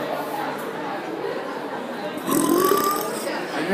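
A person burps on purpose: a quieter stretch with faint background chatter gives way to a long, drawn-out voiced burp that rises in pitch and holds near the end.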